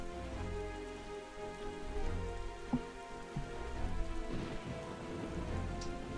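Heavy storm rain from The Legend of Zelda: The Wind Waker HD pours without pause, a thick hiss of drops over a deep low rumble, with a couple of brief knocks partway through.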